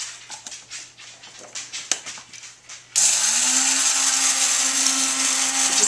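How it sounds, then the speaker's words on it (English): Coffee grinder grinding about a tablespoon of flaxseed: after a few seconds of quiet clinking and handling, the motor starts abruptly with a loud, steady, high whirring that continues to the end. "we're going to put them into my designated coffee grinder, now turned into flaxseed grinder"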